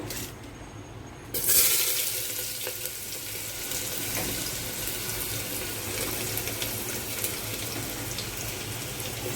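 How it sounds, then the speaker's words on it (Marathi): Chopped onion hitting hot oil in a pan for a home-style pasta, with a sudden burst of steady sizzling after a quieter second that continues as a dense, even frying hiss close to the mic. "इथे छान तेल तापले आहे त्याच्यामध्ये आपण टाकणार आहोत कांदा"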